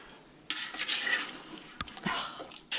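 A spoon scrapes and clatters around a pot on the stove while a batch for bread and butter pickles heats, steady rubbing swirls broken by a sharp knock against the side, close and fairly loud with no talking.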